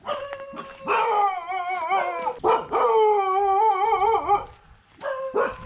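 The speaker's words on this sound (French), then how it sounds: "C'est le lieu des chiens ici, c'est le coin dangereux." Several dogs in a Thai beachside village bark, yelp and howl at about seven in the morning, a close, near-continuous chorus of overlapping wavering howls and sharp barks with only brief pauses.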